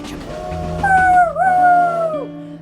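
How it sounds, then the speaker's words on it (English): A dog howls in a long wavering tone that rises, dips and trails off, with music-like tonal sounds underneath throughout. "There's a dog."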